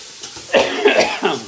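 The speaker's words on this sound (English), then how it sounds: "What's going on with this coughing?" A person coughs several times in quick succession, loud and close, a short cluster of harsh coughs in a kitchen setting.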